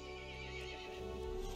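A horse in the Resident Evil Village video game lets out a whinnying neigh over a low droning game soundtrack, a short, fairly quiet call with no talk.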